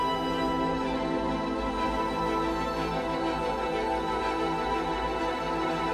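An orchestral string section plays together, some parts trilling while others play short detached notes, forming a dense, sustained texture.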